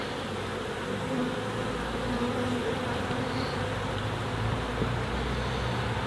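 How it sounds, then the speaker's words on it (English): Honeybees swarm and drone inside an open hive box with a small hive beetle infestation, a steady, dense buzzing that holds at an even level throughout, close by and with no talking. "A lot more bee activity on this side of the box"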